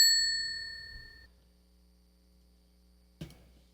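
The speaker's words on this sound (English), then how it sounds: "Hit that bell." A notification bell ding rings out clearly at the start and decays over about a second, followed by low mains hum and a faint knock near the end.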